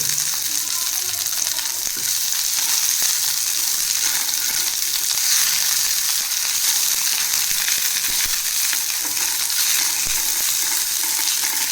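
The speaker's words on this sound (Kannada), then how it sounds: "ಫ್ರೈ ಮಾಡ್ಕೊಬೇಕು ಅಂದರೆ ಲೈಟಾಗಿ ಒಂದು ಹಸಿ ವಾಸನೆ ಹೋಗುವಷ್ಟು ಫ್ರೈ ಮಾಡ್ಕೊಳೋಣ." Vegetables for veg pulao fry lightly in a pan, making a steady, loud, continuous sizzle with faint stirring scrapes throughout and no talking.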